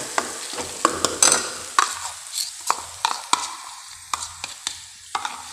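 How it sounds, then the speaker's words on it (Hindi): Garlic and onion puree is mixed into chole masala in a hot pan: sharp, evenly spaced spoon scrapes and knocks over a soft sizzle, close and fairly loud, with no voices. "जो लहसुन और प्याज की जो प्यूरी बनाई है वो इसमें ऐड कर देंगे। अच्छे से मिक्स कर देंगे इस तरीके से।"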